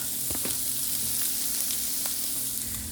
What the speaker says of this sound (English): Just cook it down.